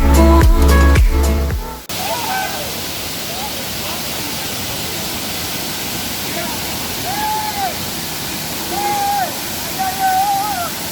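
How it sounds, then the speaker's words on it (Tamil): Kanthaloor waterfall in Kerala, about 20 feet high, pours with a dense, steady roar after a brief burst of loud music at the start; faint bird chirps rise over the rushing water. "ஃபால்ஸ் பாருங்கள், தண்ணியோட ஃப்ளோ செம்மையாக இருக்குது."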